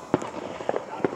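Fourth of July fireworks being lit: three or four sharp crackling pops at irregular intervals, fairly close and moderately loud over a low background hiss.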